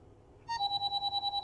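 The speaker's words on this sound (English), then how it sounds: "Text message." A phone plays a short text message notification ringtone: a quick series of bright, evenly pulsed electronic tones, loud and close, with no talk over it.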